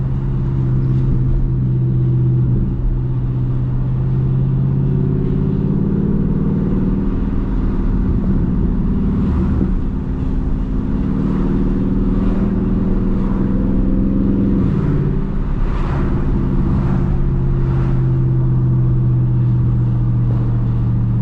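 A Dodge Charger Daytona 392 rumbles loudly and steadily while driving, its deep engine drone swelling and easing with gentle throttle changes, heard close from inside the car and without talk.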